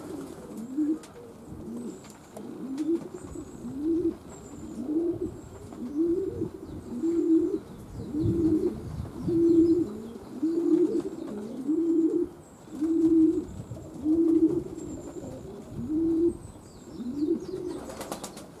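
Pigeons cooing steadily in a repeated low rhythm outside in light drizzle, with faint high chirps above and occasional soft wing flaps, no voices.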